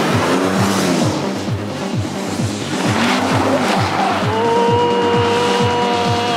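A car on a steep, nearly vertical dirt slope, its engine loud and straining, revs rising and falling in repeated bursts with tire spin and squeal as it fights for grip near the top.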